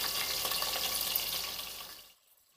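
Onion pieces dropped into hot oil with crackling mustard seeds give a steady, close hiss of frying that fades out after about two seconds, with no voices.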